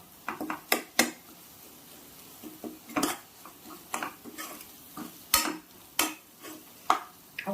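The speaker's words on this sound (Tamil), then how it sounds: "அதை லைட்டாக இப்படி ஸ்மாஷ் பண்ணி விட்டிங்கனாலே நல்லா ஸ்மாஷ் ஆகிடும்" Thick chicken gravy is mashed and stirred in a pan with a utensil, giving irregular sharp scraping clacks and soft squelchy taps with quiet gaps between them, close up and without talk.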